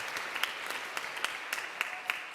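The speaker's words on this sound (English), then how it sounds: "Round of applause." A church audience gives a round of applause, soft and moderately distant, a steady patter of many hands with a few sharper individual claps standing out.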